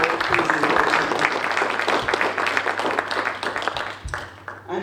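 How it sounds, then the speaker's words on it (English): An audience applauding panelists at an evening community discussion, a full room of steady clapping, close and lively, tapering off toward the end. "I'd like to give them a round of applause for their wonderful presentation"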